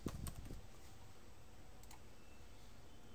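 A few quick keystrokes on a computer keyboard enter a method name into a search field of the Autodesk Revit SDK help, a brief cluster of clicks near the start, then quiet room tone.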